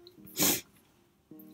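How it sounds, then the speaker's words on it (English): A single short, sharp nasal burst, like a sniffle or quick sneeze, stands out against a quiet background, with faint breathing around it. "I apologize for my sniffles."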